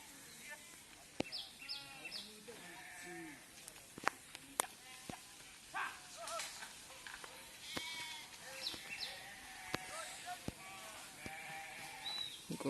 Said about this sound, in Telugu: గొర్రెలు వస్తుంది